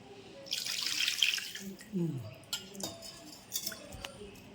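Water poured into a pot of fish and raw mango curry, a short splashing gush up close followed by a few clinks and drips, with a voice speaking softly.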